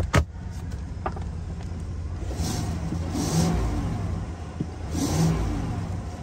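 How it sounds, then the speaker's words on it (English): A Jeep Wrangler engine at an auction yard gets short revs, rising in two swells from a steady idle, heard nearby with background noise and no talking. "Give it a little rev here."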